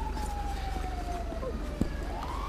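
Siren of an emergency vehicle in GTA V, a falling wail that dips and climbs again over constant low engine and road rumble, with a brief thump midway.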